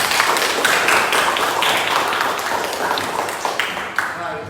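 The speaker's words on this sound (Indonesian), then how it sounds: "Tepuk tangan." A classroom of students claps together in a steady, dense burst of hand claps lasting several seconds, fairly close and loud, thinning slightly toward the end.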